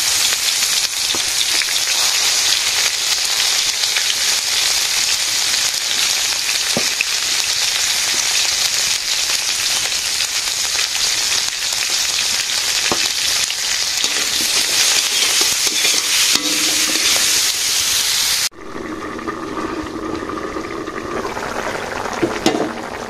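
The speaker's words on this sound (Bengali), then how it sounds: "পটল দিয়ে দেবো, পটলটাকে ভেজে ভরছি" Pointed gourd (potol) fries in a pan with a dense, rain-like crackling sizzle that stays loud and steady, then abruptly drops to a quieter, thinner fry near the end.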